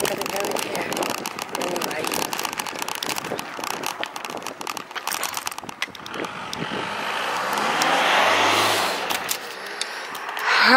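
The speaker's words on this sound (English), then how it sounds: "There's another vehicle coming now, look." A vehicle approaches and rolls past on a country lane beside a Roman road near Uphill, its rising broadband road and engine noise swelling loud in the latter seconds over constant wind buffeting from a moving bicycle.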